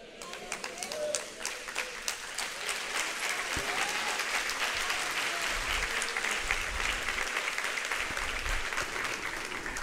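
A church congregation applauds, with dense, steady clapping filling the room throughout and voices mixed in underneath.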